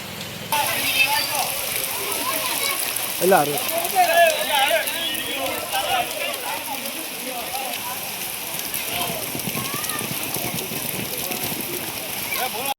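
Steady rain pours over Barwala's rural roads and collects as water on the road surface, making a dense, even patter and splash with faint voices and other sounds mixed in.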